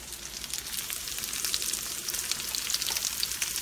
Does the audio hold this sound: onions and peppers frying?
yes